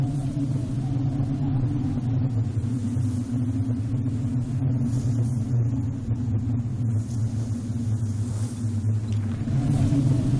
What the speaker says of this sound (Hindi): तूफान है, हमें कहीं पनाह लेनी चाहिए